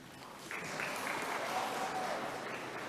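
Audience applause at a spring university commencement ceremony, a steady wash of many hands clapping that swells after the first half second and holds at full strength to the end, with faint voices mixed in.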